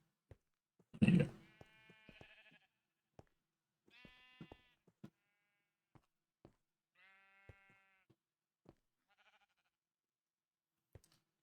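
Sheep in the Minecraft video game bleating several times, short distinct calls with clicks and small game sounds in the quiet gaps between them.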